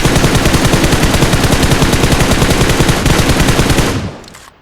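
Sustained automatic gunfire from PUBG Mobile rattles in a loud, rapid, continuous burst for about four seconds, then cuts off and fades quickly.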